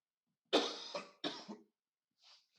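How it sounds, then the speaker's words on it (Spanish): Up close, someone coughs twice in a row, each a rough double hack, then a faint breathy sound follows. "Una tos inoportuna."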